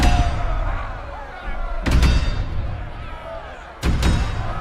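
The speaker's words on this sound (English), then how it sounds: "Bells ring as cacophony rages outside." Bells clanging and heavy bangs on a door in the horror video game Scarlet Hollow, with two sharp, loud impacts about two seconds apart over a dense, rumbling din.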